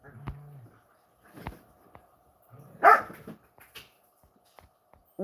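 Dachshunds barking at home, a few scattered short barks and yips with quiet gaps between them, one louder sharp bark near the middle, fairly close.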